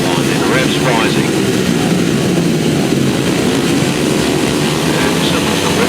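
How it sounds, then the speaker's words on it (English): Grasstrack racing motorcycles revving on the start line at a 600cc meeting, a loud continuous engine roar that stays steady throughout, with commentary running over it. "On the start line, then revs rising."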